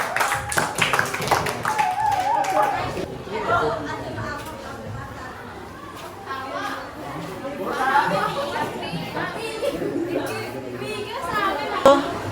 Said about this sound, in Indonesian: Beri tepuk tangan untuk kelompok visual